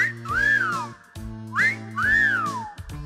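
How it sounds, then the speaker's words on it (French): A parrot whistles two long, swooping notes that rise then fall, each about a second long and fairly loud, with a steady low tonal hum beneath. "Ou alors un sifflement."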